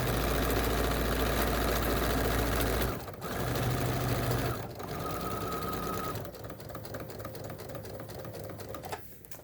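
A sewing machine with a quarter-inch foot stitches appliqué in a fast, steady hum for about three seconds, then carries on in shorter runs of stitching separated by brief stops, heard close up with no talk.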